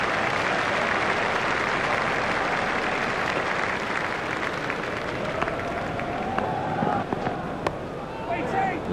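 Cricket crowd at a T20 World Cup match between Kenya and South Africa standing and applauding, a dense, loud wash of clapping and cheering that holds steady throughout, with a commentator's voice running faintly beneath.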